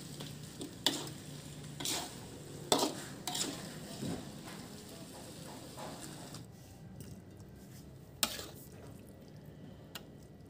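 Vegetables being stirred with cornstarch slurry in a pan for Indonesian capcay: quiet scraping and gentle sizzling with scattered sharp clinks of utensil against metal, fairly close, with no talk.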